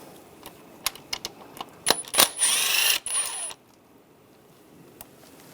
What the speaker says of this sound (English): Using a 8mm socket, take the nut off for the little ground strap